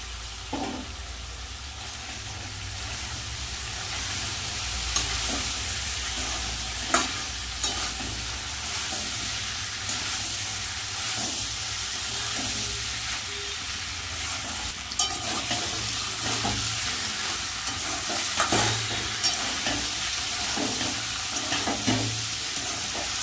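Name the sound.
fried potato and jackfruit stirred into spiced oil, sizzling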